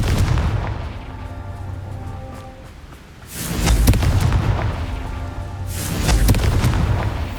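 In the Hogwarts Legacy video game, a Confringo blasting spell sets off two heavy, booming explosions a few seconds apart over a rumbling background, with no talking.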